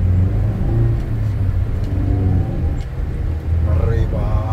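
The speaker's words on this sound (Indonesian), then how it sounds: "Akselerasinya ngeri." A 2006 Toyota Avanza accelerating, a steady, loud engine rumble and road roar from inside the car, with a voice briefly heard near the end.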